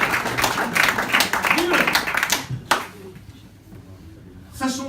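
A café audience claps for around two and a half seconds, scattered close hand claps that thin out and stop, followed by quiet room sound and a voice beginning to speak.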